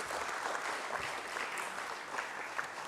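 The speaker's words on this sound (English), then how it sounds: "let's all give a round of applause" Audience applause closing the inaugural session of a regional directors' conclave, continuous dense clapping from a large seated crowd, steady and fairly distant.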